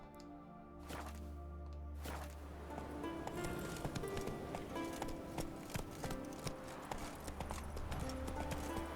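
Roach the horse gallops in the video game The Witcher 3: Wild Hunt, with steady, rhythmic hoofbeats clip-clopping throughout at moderate loudness over a low background drone.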